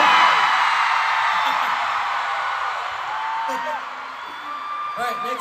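Audience at a K-pop fan event cheering and whooping for Lee Know, loud broadband crowd noise that is steady throughout, with yells rising over it and a few voices talking.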